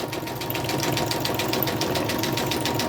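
A sewing machine runs decorative stitches through paper junk journal folios, producing a fast, even mechanical rattle up close without pause.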